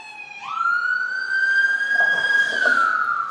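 An ambulance siren sweeps up and holds a steady, loud wail close by, then begins to fall away, with faint traffic beneath and no talking.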